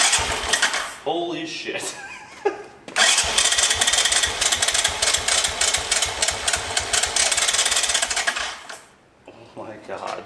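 An old abandoned Honda three-wheeler engine catches and fires up after a short burst of voice, then runs loudly and unevenly for several seconds, sputtering before cutting out, with a brief exclamation at the start.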